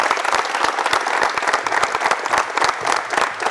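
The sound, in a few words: audience applause for Mr. Johnson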